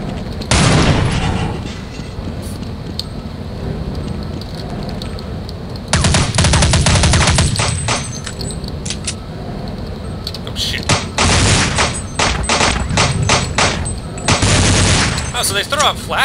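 MP5 submachine gun fire in the video game Counter-Life for Half-Life, loud rapid bursts and scattered single shots, with a long sustained volley midway and a dense string of cracks near the end, plus some talk.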